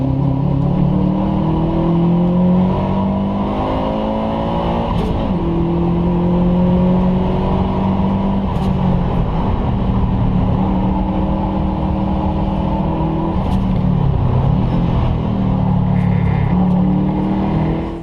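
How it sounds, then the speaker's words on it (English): A Saker RapX sports car with a Subaru 2-liter turbocharged boxer four-cylinder and optional Capristo exhaust revs hard and loud, its pitch rising and falling in repeated sweeps under a constant close engine roar, with no talk. "the latest offerings from Saker come with a Subaru 2-liter turbocharged Boxer 4-cylinder engine"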